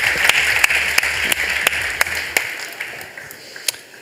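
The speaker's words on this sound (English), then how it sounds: "He gets a clap." An audience applauds, a steady wash of many hands clapping with a few sharper individual claps, tapering slightly toward the end.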